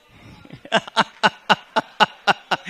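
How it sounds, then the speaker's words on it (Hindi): An audience at a Hindi comedy poetry show (kavi sammelan) claps in loud, close unison, in a steady rhythm of about four beats per second after a ragged start. "जोरदार तालियां बजा दीजिए"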